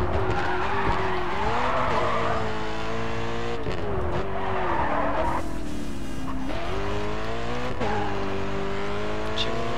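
A BMW race car drifting in the Grid 2 racing game: a loud sustained engine drone with shifting pitch under continuous tire skidding and squeal, rising and falling through the turns, with no talk.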